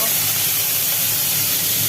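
Fenugreek seeds and five-spice mix hit hot oil in a wok, giving a loud, steady, bright sizzle that fills the whole moment without a break.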